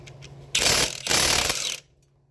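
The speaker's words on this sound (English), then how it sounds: "I just use my line wrench and my impact like this." Impact wrench loosening a 22 mm strut nut on a Toyota Camry front strut, fitted with a line wrench: two loud, close bursts of rattling hammering, each about half a second to a second long, separated by a brief pause.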